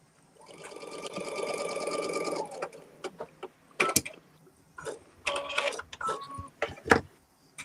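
A sewing machine stitches quilt block pieces together for an Alice's Wonderland sew-along quilt, running in one steady, whirring stretch before breaking into shorter start-stop bursts with small clicks and handling noises between them.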